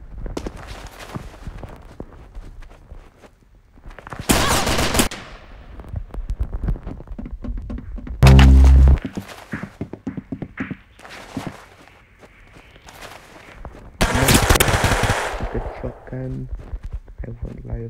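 Gunshots go off in the Roblox shooter Arsenal in a few loud bursts, over a background of footsteps and game noise, while a player talks throughout.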